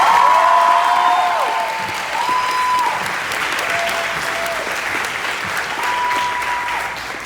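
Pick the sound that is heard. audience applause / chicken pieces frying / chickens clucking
audience applause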